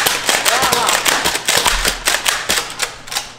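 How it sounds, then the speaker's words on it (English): A hydrogen-powered Nerf blaster fires in rapid sharp cracks and pops, loud and close, with voices talking and reacting underneath. "hydrogen powered Nerf blaster"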